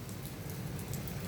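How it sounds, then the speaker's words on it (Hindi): Steady rain falls outdoors, a dense, even hiss with scattered drop patter, moderately faint and continuous throughout with no voices. "फिर वापस बारिश शुरू हो गई"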